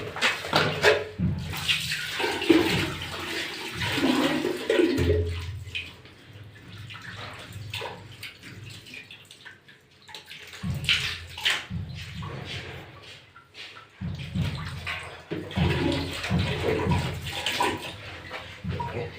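Water splashes and pours over a newly fitted Indian-style flush toilet seat in a washroom, rinsing it in loud, uneven bursts with brief quieter pauses between pours.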